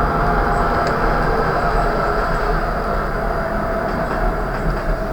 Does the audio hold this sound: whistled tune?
no